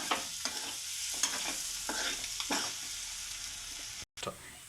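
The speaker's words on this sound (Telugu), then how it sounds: "ఇవి కూడా కొంచెం సేపు వేయించుకుందాం" Garlic fries in a pan for an egg and garlic chili dish, a steady close sizzle with bursts of stirring scrapes, then a brief cutoff near the end.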